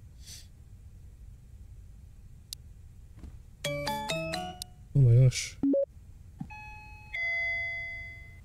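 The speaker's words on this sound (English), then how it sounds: "the doorbell's ringing?" In the horror game Parasocial, a doorbell chimes several times in bright ding-dong tones that ring out clearly against a quiet background. A person gasps and speaks in alarm between the rings.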